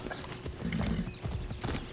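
Horse hooves clip-clopping at a walk in the Far Cry 6 video game, a brisk close rhythm of hoof strikes over a low ambient bed, with a faint snort.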